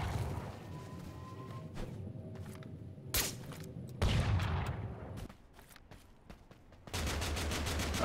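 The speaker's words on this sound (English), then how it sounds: "I'm getting shot." Gunfire in Totally Accurate Battlegrounds, with scattered sharp shots and short bursts followed by a denser volley near the end; moderately loud against a quiet background.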